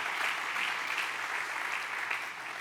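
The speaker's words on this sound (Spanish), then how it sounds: "Dele un buen aplauso a Jesús si usted lo cree." A church congregation applauds together, a dense, steady wash of many clapping hands sustained from start to finish without a break.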